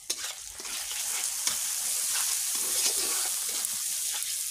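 Spices with Kashmiri chilli powder, regular chilli powder and turmeric sautéing in a pan, a steady close sizzle with spoon-stirring scrapes running throughout, alone without talk.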